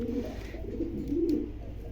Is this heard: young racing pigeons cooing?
yes